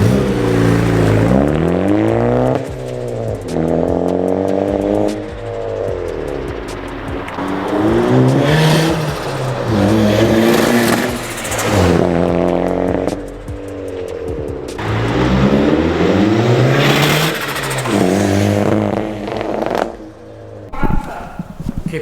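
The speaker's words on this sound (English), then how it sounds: "let me put this outside so you guys can hear the wastegate" A boosted Honda engine fitted with an external wastegate revs hard again and again, each run rising and falling in pitch, loud and close with brief dips between the pulls.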